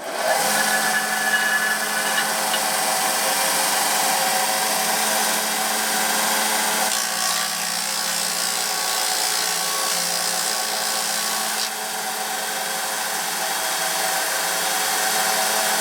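A benchtop mini disc and belt sander whirs steadily at a constant loud pitch while sanding wood, running continuously from start to finish with a slight dip in tone midway.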